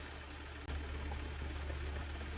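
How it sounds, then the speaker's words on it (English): An Audi/VW 3.0T engine idles in a workshop after a timing chain replacement, a steady low hum with a constant even drone and one brief dropout, no voices. "The engine is running good."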